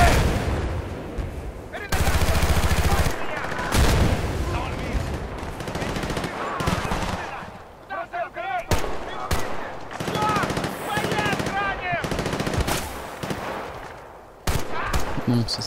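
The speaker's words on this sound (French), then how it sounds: "Mitrailleuse dans la maison." Machine gun fire rattles in Battlefield: Bad Company 2, loud rapid automatic bursts broken by brief pauses, with other gunshots and battle noise mixed in.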